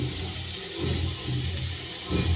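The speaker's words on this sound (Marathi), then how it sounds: "मसाल्यातच पाणी राहिलेलं टाकायचं" Water pours into a vegetable curry masala of bean pods cooked the traditional way, a steady close splashing rush with small surges throughout.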